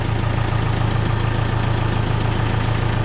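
A tractor engine idles steadily up close in cold weather while warming up, a low rhythmic diesel chug with no talking.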